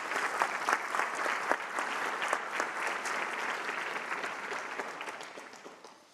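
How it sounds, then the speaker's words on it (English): A room full of people applauds at a National Honor Society induction ceremony, sustained dense clapping that holds steady, then slowly thins and fades toward the end. "Please join me in thanking them with a round of applause."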